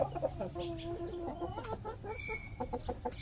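A Rhode Island Red hen about to lay an egg clucks in a quick, uneven run of short calls, close but fairly quiet, with faint background noise.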